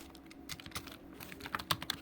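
Keys clack on a computer keyboard while code is typed, a run of irregular quick taps with a few sharper strokes near the end, close and fairly quiet with no talking.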